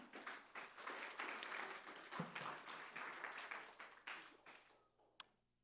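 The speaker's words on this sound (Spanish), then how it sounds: "¿No le dan aplauso a Dios por eso, hermano?" A church congregation breaks into sustained applause during a Spanish-language sermon, dense clapping spread across the room at moderate level, thinning out near the end with one sharp final clap.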